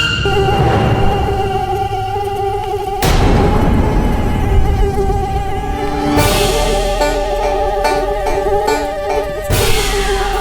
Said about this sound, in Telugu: ఈ ఈగ లోపలికి ఎలా వచ్చింది